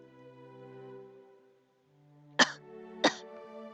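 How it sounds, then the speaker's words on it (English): A video game character gives two sharp, close coughs about half a second apart, following a soft tonal musical background. "His coughs are getting worse."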